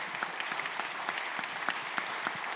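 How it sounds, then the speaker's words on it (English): A crowd claps steadily in a short round of applause at a panel event in West Baltimore, dense and continuous with a few sharper claps standing out, fairly close. "Let's thank all of those people with a quick round of applause"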